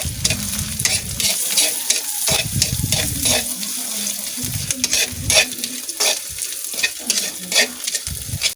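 Food sizzles in a frying pan while a utensil stirs and scrapes, with running water splashing from a tap at times, loud and close.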